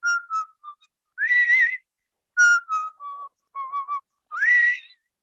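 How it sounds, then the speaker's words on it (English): A parrot whistles clear, melodic phrases alone, short rising and falling notes separated by brief silences, close and fairly loud. "it really is cool to hear a whistle, isn't it?"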